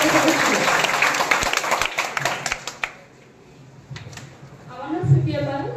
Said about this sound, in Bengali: তোমরা হাততালি দেবে একটা করে